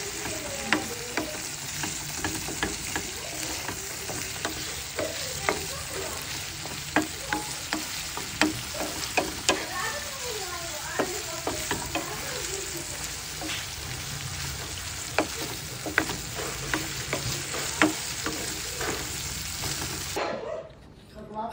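Delimondo ranch style corned beef sautéing in a pan, a steady dense sizzle with frequent scraping stirs throughout, ending abruptly near the close.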